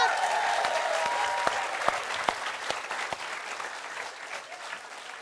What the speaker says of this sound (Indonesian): kita tepuk tangan dulu dong untuk Pak Malas.